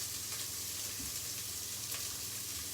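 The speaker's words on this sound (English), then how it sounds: "Kind of just frying it a little bit." Pepper and long stem broccoli frying in a pan, giving a steady, even sizzle with crackling and faint popping throughout, close and continuous with no talking.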